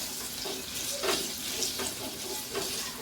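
Two large onions frying in a pan for a black bean dish, a soft steady sizzle with faint scraping stirs at intervals, quiet and close.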